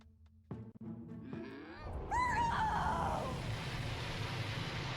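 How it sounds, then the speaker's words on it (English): A Monferno cries out in the Detective Pikachu video game with a loud, human-like scream, a wavering pitched shriek that rises over game music and rumble and then trails into sustained noise. "Sounded very human-like scream."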